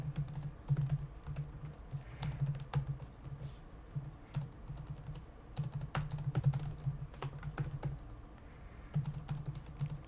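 Steady computer keyboard typing while a program is being written, in bursts of quick clicky keystrokes with short pauses between them, fairly close and with no talking.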